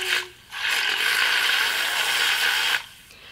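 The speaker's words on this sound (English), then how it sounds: "I also have this little blender here." A small blender whirs at high pitch for about two seconds, starting and stopping abruptly, close by with no talking.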